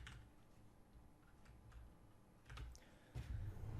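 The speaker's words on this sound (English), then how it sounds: "So I'm just going to type that in." Keys clatter in quick, uneven bursts on a computer keyboard, soft and close, with a few heavier taps toward the end and no talk.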